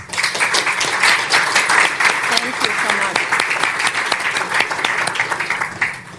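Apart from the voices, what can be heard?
audience applause for panelists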